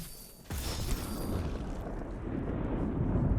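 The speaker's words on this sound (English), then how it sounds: "because these guys drop money, they're also causing the explosions to happen" Chain explosions in the video game Darkblade Ascent: a sudden loud blast lands half a second in, followed by a sustained, dense rumbling roar of overlapping detonations that carries on to the end without talk.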